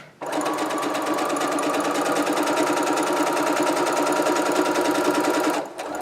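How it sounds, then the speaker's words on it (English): A sewing machine stitches a plain seam in fabric, running in a fast, steady whir close up for about five seconds before stopping abruptly. "release the button, and now sew forward, keeping your cut edges even with the 5/8 mark"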